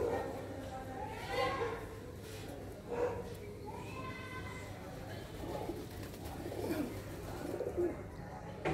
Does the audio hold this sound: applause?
no